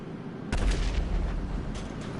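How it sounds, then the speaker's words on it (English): A single heavy boom as a truck explodes in GTA Online, a deep sudden blast that rumbles on for over a second under a steady background bed, with no talk over it. "Kaboom."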